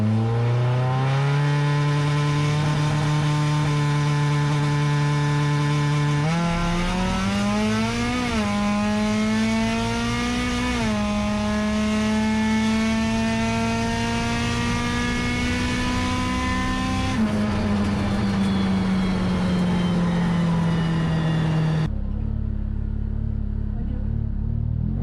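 A race car's engine roars loud and close as it launches against a Mustang, revving through rising gear pulls with sharp shifts before the sound drops away abruptly near the end.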